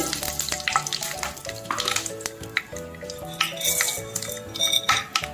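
Mustard seeds crackle and sizzle in two ladles of hot oil for an Andhra tomato buttermilk curry, a bright frying hiss with sharp pops and stirring clinks of a spoon against the pan, over a low background hum.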